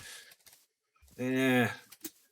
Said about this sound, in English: That's the cow making that walking sound?